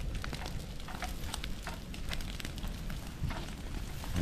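Fire burns through a field on a hacienda, a dense, steady crackling and hissing roar with sharp pops scattered throughout, close and continuous with no talking.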